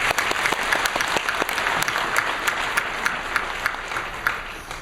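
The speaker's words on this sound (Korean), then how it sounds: "우리 감사의 박수 한번 올려드리겠습니다" A church congregation gives a sustained round of applause, a dense, even wash of many hands clapping throughout with no talk over it.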